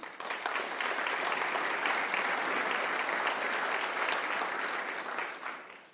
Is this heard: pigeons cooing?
no